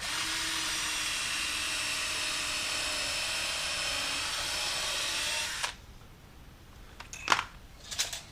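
A drill drives 2-inch screws into the wooden top rail of a homemade bicycle storage rack without pre-drilling. It makes one loud, continuous whirring run of about five seconds, then stops, followed by a few sharp knocks.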